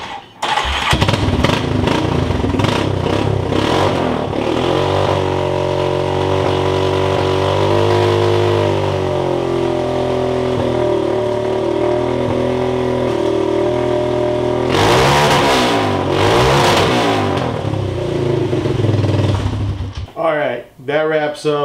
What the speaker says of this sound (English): at this point the golf cart is running and driving, shifting, reverse works